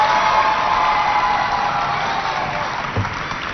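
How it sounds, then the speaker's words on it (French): A large crowd at a school competition applauds and cheers continuously, a dense wash of clapping and shouts that fades slightly toward the end. "On applaudit très fort."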